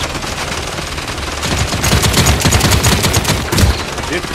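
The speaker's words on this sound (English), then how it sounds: "They're firing on me!" Rapid automatic gunfire in the Paladins beta on PC, loud and dense bursts of shots that swell midway and keep crackling through to the end, with no voices.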